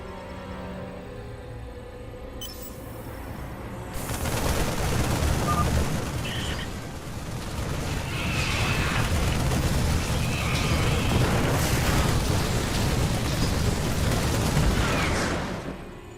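Cannons firing and explosions in the StarCraft 2 video game roar in a dense, continuous barrage of booms and blasts that holds loud for most of the stretch after a quieter start.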